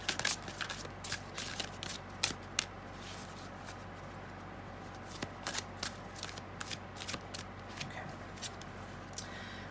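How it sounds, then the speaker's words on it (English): A deck of angel cards shuffled by hand, continuous close riffling and flicking with sharper card snaps clustered near the start and again later, no speech. "I want to pull a couple of angel cards with this as well"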